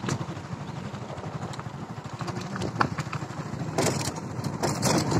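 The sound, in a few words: motorbike riding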